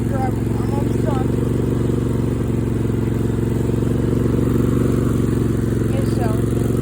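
Riding lawn mower engine running steadily while being driven, a loud continuous low drone with steady harmonic hum and some rattle, close up throughout without pauses.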